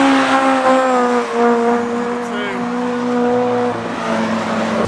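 A race car, an EP3, driving hard on a circuit while overtaking other cars, its loud engine droning close by with rising and falling pitch as it shifts, accompanied by faint tyre noise.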